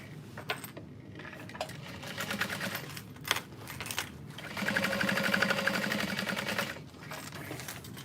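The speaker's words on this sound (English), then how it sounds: "top stitching through the seam allowance on the exterior bottom panel" A sewing machine topstitches through the seam allowance on a backpack's exterior bottom panel, a steady mechanical whir with rapid needle ticking that starts and stops, running longest in a sustained stretch midway.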